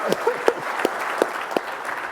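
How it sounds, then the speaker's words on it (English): Scattered clapping from a small audience, with uneven individual claps popping through, moderately close. "can we give him a round of applause?"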